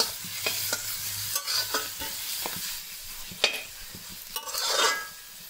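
Meat and onions being sautéed with salt in a pan for Kerala beef peralan, with a steady sizzle under repeated close spatula stirs and scrapes that grow busier toward the end.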